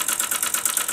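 A Mamod SP6 gas-fired stationary steam engine runs slowly and close by, giving a steady, rapid hissing chuff with a regular mechanical pulse and no voices.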